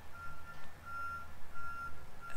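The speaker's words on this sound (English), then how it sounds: "We hear that beep, beep, beep sound." A truck's reversing alarm beeps somewhere nearby, three or four evenly spaced high electronic tones rising over a low rumbling background, fairly faint and without speech.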